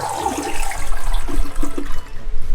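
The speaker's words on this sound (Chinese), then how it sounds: "好，现在来冲水喽" A toilet flushing right after a new installation, a rushing swirl of water that surges and gurgles steadily for a few seconds, close by with no talking.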